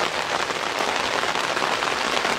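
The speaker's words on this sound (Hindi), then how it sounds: "बारिश भी तेज हो गई है।" Heavy rain pours steadily on a village in Indonesia, a dense, even hiss of drops striking surfaces close by, with no voices heard.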